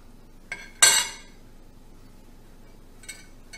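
A utensil clinks and scrapes against a pot while goat milk with baking soda is stirred gently for cajeta: a short knock, a louder metallic scrape and a faint later tap, otherwise quiet.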